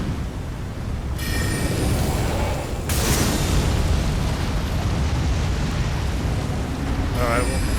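Roaring, crackling burst of fire from a flame attack spell in a dual-wield staff fantasy game, a sustained loud whoosh and rumble with sharp flare-ups at about 3 seconds and near the end, with no pause.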